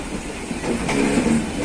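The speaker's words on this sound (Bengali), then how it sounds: "পরপর লোকাল ট্রেন ঢুকছে" Local trains pull into a busy station on the Howrah route with a steady, rumbling rail clatter. The sound stays fairly close and continuous through the short stretch, and no one speaks.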